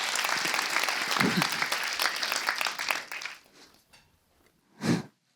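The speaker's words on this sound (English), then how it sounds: "let's clap" An audience applauds loudly at a motivational talk, the clapping dense for about three seconds before fading out, followed by one short burst of sound near the end.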